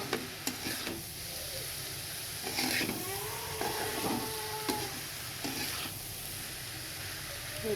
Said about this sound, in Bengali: হালকা আঁচে এটা আমি ভেজে ভেজে আস্তে আস্তে এটাকে ভাজা করে নেব